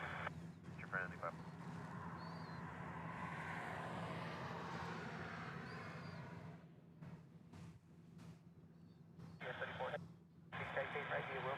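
Air traffic control radio through a small Bearcat 125AT handheld scanner at Honolulu, crackly narrowband transmissions over a low aircraft engine rumble in the background.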